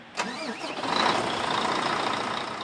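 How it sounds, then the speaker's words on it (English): A Volvo heavy-duty truck engine cranks briefly and catches after a new belt and tensioner installation, then settles into a steady, loud idle that continues to the end. "reconnect the battery and start the engine"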